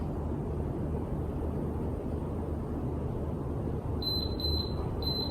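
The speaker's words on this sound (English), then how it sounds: "When the timer goes off" Workout interval timer beeping three times near the end, short high electronic beeps over a steady low background rumble.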